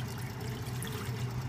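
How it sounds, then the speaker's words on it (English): Water pours steadily into a saucepan on a stove set to medium, a continuous close trickle with no pauses, while making butterbeer. "Now you're gonna need a saucepan, set it to medium, add your water"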